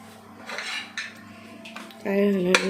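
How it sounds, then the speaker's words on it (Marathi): Metal pressure cooker set down and its lid fitted and closed in a home kitchen, several close clanks and scrapes, ending in a sharp metallic knock and ringing clatter. "आता हांव हो, हे कुकर लायता"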